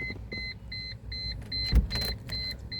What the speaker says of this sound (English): Let me turn the ignition. Only ignition on, key on.